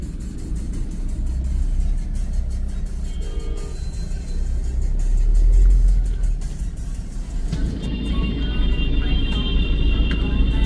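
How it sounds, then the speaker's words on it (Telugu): Low rumble of road traffic near Sangam, Prayagraj, during the Maha Kumbh Mela, with a car engine droning close by; sustained horn-like tones sound near the end. "ఇప్పుడే కొంచెం అంత ట్రాఫిక్ సంగం దగ్గర."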